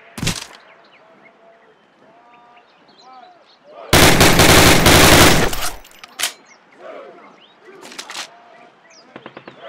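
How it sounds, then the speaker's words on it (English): Rifle fire on a shooting range in the Call of Duty video game: a single sharp shot, a loud two-second automatic burst, then scattered single shots and a quick string of rapid pops near the end, with birdsong and brief game voices between. "Fire three more rounds at your target."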